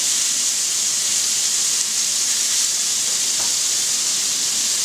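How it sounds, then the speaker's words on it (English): Beef entrecote steaks searing in a very hot pan give off a steady, loud sizzling hiss that holds evenly from start to finish, with no talking over it. "You need really hot, fast, hot pan to cook steak properly."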